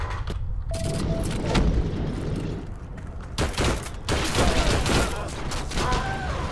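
Gunfire in Heroes & Generals: a rapid fusillade of sharp shots and booms, some close and loud, others farther off, spread across the clip over continuous battlefield rumble, with a voice talking faintly underneath.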